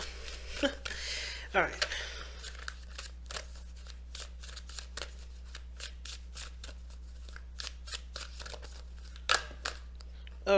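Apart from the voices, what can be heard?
shuffling oracle cards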